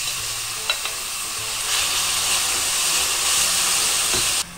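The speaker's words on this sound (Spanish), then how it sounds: "Ahora voy a sofreír aquí la cebolla y el ajo." Onion and garlic sautéing in oil, a steady close sizzle and hiss with a couple of faint utensil taps, the frying growing louder partway through before cutting off.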